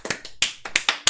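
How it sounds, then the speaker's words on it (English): Hands clap in a quick, uneven series of about eight sharp, close claps, alone without talk. "I can't clap enough for these guys."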